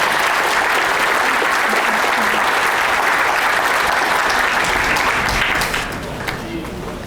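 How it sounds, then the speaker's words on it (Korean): A large audience at a book concert welcomes a guest speaker with loud, dense clapping that holds strong for several seconds and then eases off toward the end. "큰 박수로 모시겠습니다."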